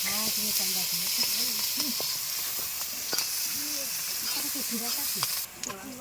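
Onions frying in a pan for a home-style chicken curry give a steady, close sizzle and hiss throughout, with a voice talking over it.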